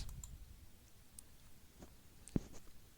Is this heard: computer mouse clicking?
yes